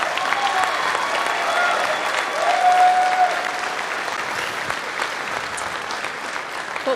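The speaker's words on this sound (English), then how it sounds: "One more round of applause, please, ladies and gents, for Max Lechner." An audience at the 2022 US Open Pool Championship final applauds runner-up Max Lechner, sustained hand-clapping from the crowd with some murmuring under it.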